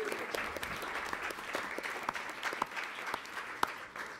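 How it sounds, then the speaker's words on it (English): An audience at a school board of education meeting claps to honor a coach at the podium, steady medium-distance applause with some sharper individual claps, lasting several seconds without talk. "You guys can clap."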